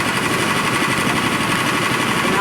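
Mini fast track race car engine at an amusement park in New Jersey, a steady, loud, buzzing drone with a rapid mechanical rattle running unbroken throughout.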